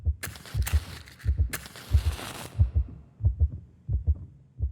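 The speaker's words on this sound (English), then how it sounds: "I like how much I can hear my heartbeat" Heartbeat in the horror game One Eyed Likho, a steady double-thump lub-dub pulse repeating about once per second, loud and close, with a brief burst of brighter game noise early on.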